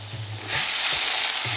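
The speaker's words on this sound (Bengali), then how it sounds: "নেড়ে চেড়ে কষানো হচ্ছে সব মশলা" Ground spices, including turmeric and chili powder, stirred and frying in a hot pan, a loud, close sizzle that swells after a moment, with low scraping stirs underneath.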